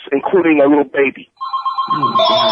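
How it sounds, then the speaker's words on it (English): A telephone rings with a steady electronic bell tone that starts partway through, loud and close, overlapping someone talking during a recorded discussion. "I'm so sorry about that phone"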